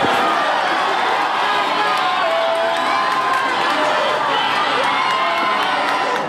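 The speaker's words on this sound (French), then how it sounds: "C'est une foule enthousiaste qui l'accueillait à l'église paroissiale de Lourdes" An enthusiastic crowd at the Lourdes parish church greets the Pope with loud, continuous cheering and shouting, children's voices among them, a dense roar with talk mixed in throughout.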